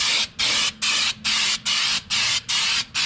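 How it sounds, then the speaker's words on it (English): 3M rubberized undercoating is sprayed onto a car's underside in eight short, even bursts of close, loud hissing, each separated by a brief pause, with no talking. "Just using some generic 3M rubberized undercoating"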